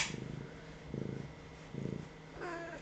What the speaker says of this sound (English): Purr for the mic.